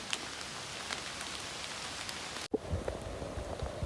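Heavy pouring rain on a forest trail during a thru-hike, a dense steady hiss of drops close by, briefly interrupted and then resuming with nearer patters on a surface.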